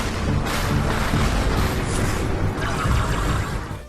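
The Brute Shot grenade launcher in the Halo video game fires in a dense burst of heavy booming explosions and mechanical clatter, loud and continuous.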